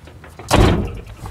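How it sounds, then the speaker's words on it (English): A Ford Transit MK5 van door closes with one solid, close thud during offside front rust repair work, a short heavy slam that quickly fades. "And most importantly of all, the door will shut"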